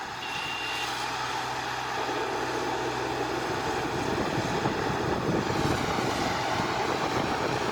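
An engine revs with the throttle held down, a loud, unbroken, droning roar that swells and grows rougher partway through and then holds steady to the end, with no voices over it.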